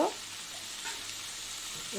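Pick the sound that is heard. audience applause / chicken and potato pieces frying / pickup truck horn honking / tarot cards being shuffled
chicken and potato pieces frying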